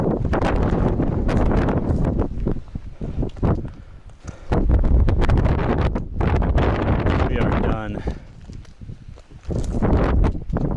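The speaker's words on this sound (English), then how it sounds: "Wind's about 25 miles an hour up here." Strong mountain wind at about 25 miles an hour on Dolly Sods roars and buffets against the microphone in loud, uneven gusts, with brief lulls between them.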